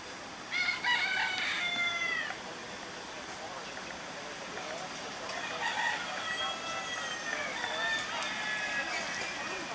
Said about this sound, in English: Roosters come with it too.